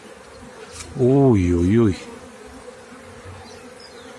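An arriving honeybee swarm, filmed at a beekeeping hive, gives one loud, close buzz lasting about a second, standing out over a faint background hum.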